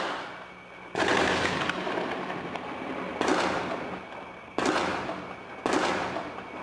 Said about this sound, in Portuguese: o morador gravou barulhos de tiros e explosões